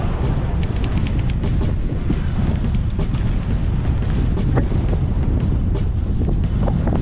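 Heavy wind buffeting roars steadily into the microphone while riding a bicycle downhill into a headwind on a Gainesville, Texas loop, a loud continuous low rumble with no talking.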